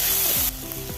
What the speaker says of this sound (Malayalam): ഉള്ളി ഒന്ന് വാടി വന്നപ്പോൾ രണ്ട് വലിയ തക്കാളി ചെറുതായി അരിഞ്ഞ് വെച്ച് കൊടുത്ത്